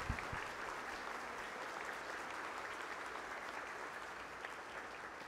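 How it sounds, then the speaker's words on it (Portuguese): A church congregation at Mass applauds after the Gospel reading, a dense, sustained round of clapping filling the space evenly, loud and continuous from start to finish with no talk over it. "Uma bonita salva de palmas, a palavra de Deus."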